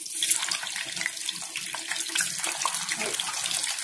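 Litti dough balls dropped one by one into hot oil in a pan, giving a steady, close hiss and crackle of frying with no talk over it.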